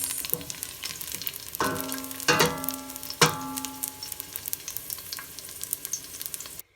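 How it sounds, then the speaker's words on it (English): Garlic sizzles in hot oil for a tomato spaghetti sauce, a steady crackling fry with a few sharper clinks of a utensil against the pan partway through, close and fairly loud, with no voices. "while the garlic is cooking in the oil"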